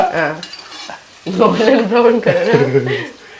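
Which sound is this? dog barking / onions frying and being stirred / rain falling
onions frying and being stirred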